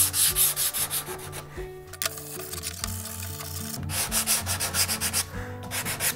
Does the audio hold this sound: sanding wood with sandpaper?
yes